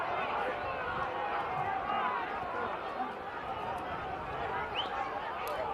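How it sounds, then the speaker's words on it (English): Spectators at a country football senior grand final, Birchip-Watchem against Donald, a continuous loud roar of yelling and shouting crowd noise over broad babble, sustained across the whole stretch with slight rises and dips. "A lot of noise here from the crowd."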